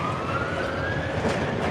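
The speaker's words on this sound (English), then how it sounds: "There's a fire engine behind me." A fire engine siren wails steadily in a long rising tone in Blackpool, fairly loud amid dense traffic rumble, with no talking.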